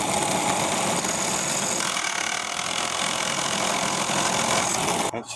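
A Meccano gear cutting machine running steadily, a loud continuous motorized whir and grinding hum that holds throughout, then cuts off abruptly near the end.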